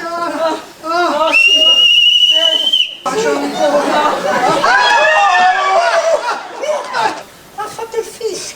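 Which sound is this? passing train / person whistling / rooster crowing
person whistling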